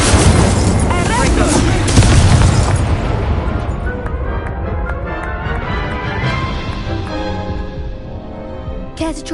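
The Expelliarmus spell cast in Hogwarts Legacy's duelling: a loud, booming magical blast with a crackling, bursting tail that rumbles and fades over several seconds, with a voice speaking over it.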